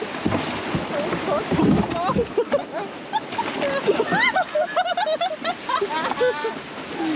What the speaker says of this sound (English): there's literally a waterfall